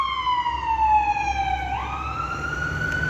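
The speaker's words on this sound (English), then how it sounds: "That's an ambulance, right?" An ambulance siren wails as it passes along a city street, loud and close, its tone sliding down in pitch as the vehicle goes by, over low traffic rumble.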